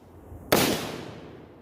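One sharp gunshot at an outdoor shooting range, a loud close crack followed by a short decaying echo, with nothing else around it.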